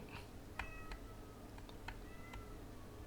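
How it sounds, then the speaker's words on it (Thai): A cat meows several times in short, separate cries spread across a few seconds, moderately close, over a steady low background rumble with no talk. "เสียงแมวร้องซะแล้ว"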